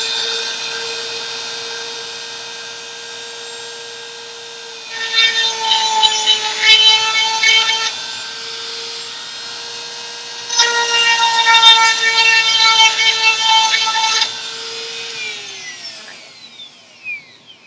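A power drill widens a hole in a plastic hula hoop in two whirring bursts of a few seconds each over a steady motor hum, which then winds down at the end.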